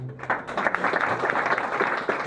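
A crowd applauds a sponsor at a charity running event summary, steady clapping from many hands filling the room throughout.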